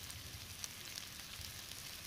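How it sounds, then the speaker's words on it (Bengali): Thinly sliced potatoes sautéing with onion in a pan, a soft, steady crackling sizzle at low volume with faint pops, no voices. "আলুটা দিয়ে পেঁয়াজের সঙ্গে সুন্দর করে একটু কষিয়ে নেব প্রথমে"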